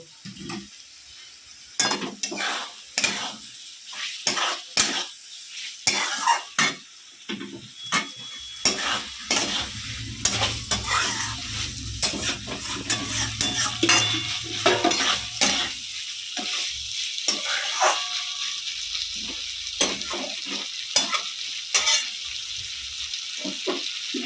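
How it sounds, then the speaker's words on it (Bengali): Fried mixed vegetables are stirred in a pan for a vegetarian mixed-veg dish, with repeated utensil scrapes and clinks over a steady sizzle that grows fuller midway, close and fairly loud with no talking. "এর মধ্যে দিয়ে এবার ভালো করে একটু নেড়ে চেড়ে কষিয়ে নেবো"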